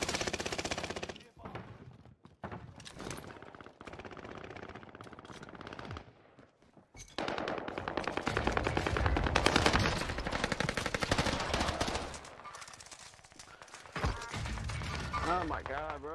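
Sten submachine gun fire in an online shooter game, rapid automatic bursts and single shots over a dense mix of game effects, with a player talking throughout.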